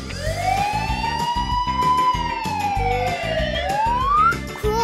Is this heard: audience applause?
no